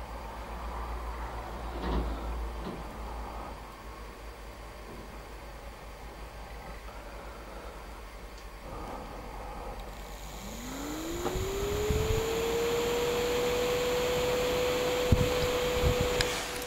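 A small fan switched on by an Arduino DHT22 humidity sensor spins up with a rising whine that settles into a steady hum, near and fairly quiet over faint background noise.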